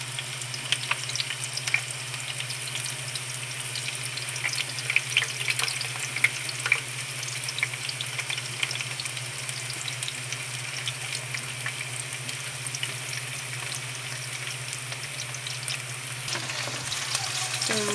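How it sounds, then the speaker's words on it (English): Milkfish (bangus) steak frying in hot oil in a pan, a steady close sizzle with small crackles and pops throughout, with no talking. "And then we're just gonna fry this semi-fried, should not be fully cooked."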